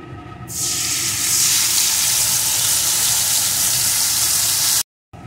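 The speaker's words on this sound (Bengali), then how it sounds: "এখন এই তেলের ভিতরে যে মশলাটা আমি রেডি করে রেখেছিলাম ওই মশলাটাকে দিয়ে দেব।" Spice paste hits hot oil for a Bengali rohu fish curry with bori, bursting into a loud, steady sizzle that holds for several seconds, then cuts off abruptly and returns briefly. No one speaks.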